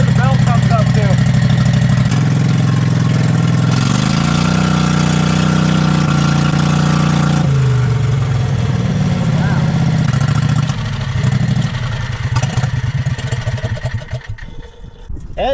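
A Harbor Freight Predator V-Twin engine on a golf cart runs loudly with a steady low drone that shifts pitch, roughens and sputters, then fades away as it dies; people talk over it.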